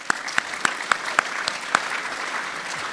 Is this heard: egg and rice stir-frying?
no